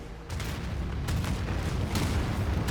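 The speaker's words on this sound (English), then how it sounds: "Torpedo away." A torpedo launches and explodes in the strategy game Anno 2205, heard as a rumbling boom and a couple of dull, artillery-like blasts that stay loud and steady across the short stretch.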